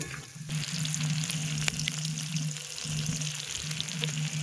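Chopped onion frying in a pan at an outdoor winter night picnic, a steady close sizzle with scattered crackles running throughout, while a low droning tone hums underneath and nobody speaks.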